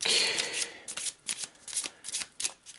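A deck of game cards being shuffled in a quick riffle, followed by several short separate snaps and flicks of cards, close and fairly quiet.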